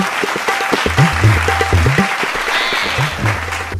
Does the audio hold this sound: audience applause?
yes